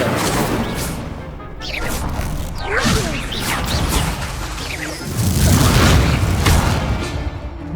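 In Hogwarts Legacy, the Incendio fire spell bursts out with a roaring whoosh and crackling blast, followed by more whooshing spell casts and heavy booming impacts in a busy, loud combat scene.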